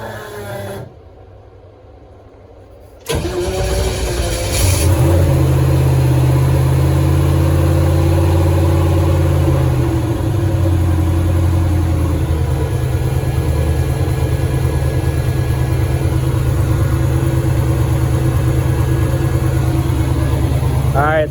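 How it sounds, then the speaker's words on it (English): A drift car being converted to a drag racer, fired up after a Th400 transmission install: after a quiet moment the engine cranks and catches with a loud burst, then settles into a rough, steady idle close by while a person speaks. "Let's give it some ignition."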